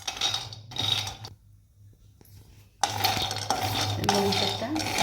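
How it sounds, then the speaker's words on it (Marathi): Peanuts dry-roasting in a pan over a low flame while being stirred, a close rattling scrape of nuts against metal that pauses briefly and then resumes more loudly and steadily. "ते सगळे हलवत आपल्याला हे खरपूस भाजून घ्यायचे आहे"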